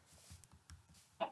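A chicken clucks in a crafting video game, a few soft, quiet clucks followed by a sharper, louder burst at the end.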